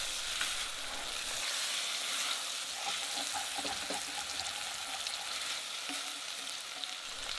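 Steady sizzling from a hot pan being deglazed with Chardonnay white wine while cooking veal, with liquid bubbling and hissing throughout, plus a few faint clinks of a utensil stirring.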